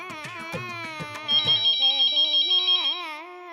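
An incoming call on a phone sets off a melodic electronic ringtone, a bright tune of repeated notes that plays loud and close for a few seconds with no talking over it.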